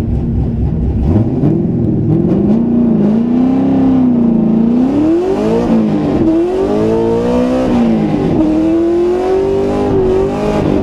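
Drift car engine revving hard through a stop-start launch, a loud continuous rising and falling engine note close by, climbing in pitch over several seconds with a whirring, straining quality and no talk.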